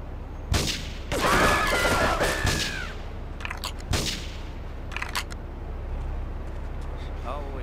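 Gunfire in Grand Theft Auto III, a few sharp, loud shots and short bursts amid vehicle noise and squealing, with a voice speaking over much of it.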